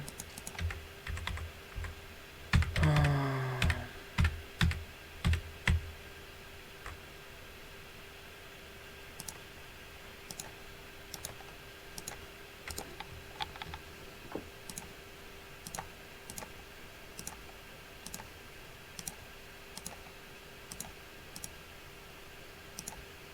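Computer mouse clicks and keyboard typing while working in a map editor, a busy burst of rapid keystrokes early on followed by sparse, evenly spaced single clicks, close and fairly quiet over a low steady hum.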